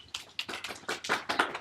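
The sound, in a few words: golf clap from workshop participants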